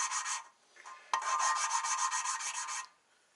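Engine valves of an RB25DET engine are lapped by hand: quick, rhythmic rasping strokes of grinding against metal, close up, in two short bursts with a brief pause between.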